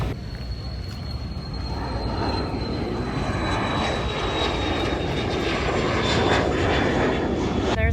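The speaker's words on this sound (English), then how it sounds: "There's Elvis's jet." A jet aircraft at the Sun-n-Fun fly-in airshow produces a loud, steady engine roar with a high turbine whine throughout, close and continuous, with no talking.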